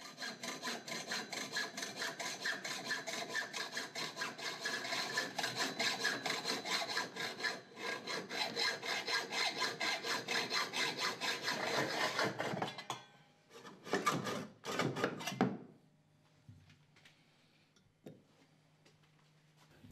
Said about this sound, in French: Sciez ensuite vos 4 tubes à la bonne dimension.